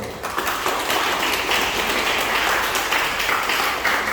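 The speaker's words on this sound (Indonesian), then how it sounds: "Jadi tepuk tangan buat mereka dulu." An audience at a junior seminary school Mass and report-card event applauds students, a broad, steady wash of many hands clapping throughout, with no talk over it.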